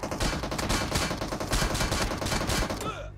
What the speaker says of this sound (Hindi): यहाँ भाई पीछे से फायरिंग पड़ती है